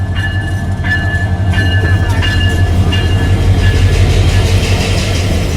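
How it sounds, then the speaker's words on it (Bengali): Kurigram Express 797 Up, a Bangladeshi passenger train bound for Kurigram from Dhaka, rolls into Parbatipur station with a steady loud rumble and repeated wheel clicks, faint squeals running over the low drone. "ঢাকা থেকে ছেড়ে আসা কুড়িগ্রাম অভিমুখী কুড়িগ্রাম এক্সপ্রেস 797 আপ পার্বতীপুর প্রবেশ করছে"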